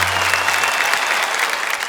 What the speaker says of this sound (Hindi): इनके लिए जरा तालियां बजाइए